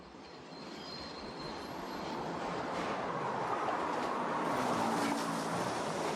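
Subway train rumbling past in a staged film scene, a steady broadband roar of wheels on rails that swells slightly louder toward the end, with no voices.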